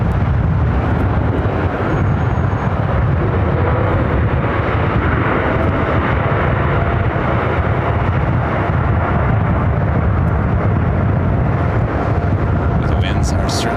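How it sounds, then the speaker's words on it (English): Boeing 787-9 Dreamliner on Hawaii Flight 3 rolling down the runway at LAX in extreme winds, a steady broadband jet roar with heavy wind buffeting throughout, a voice talking over it. "Hawaii Flight 3, 787-9 Dreamliner heading to Honolulu, now rolling down 7 left"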